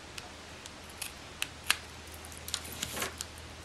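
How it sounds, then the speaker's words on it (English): Scissors cut up the middle of a paper Halloween card in a run of crisp, close snips and clicks, quiet and without talk. "we're going to take our scissors and we're just going to cut right up the middle"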